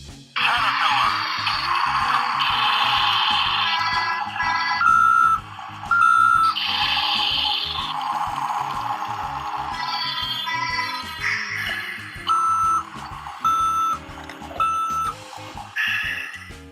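A toy CAT rigid dump truck and track-type bulldozer play electronic sounds, steady loud engine-like tones broken by repeated short reversing beeps in a regular pattern, close and clear with no talk.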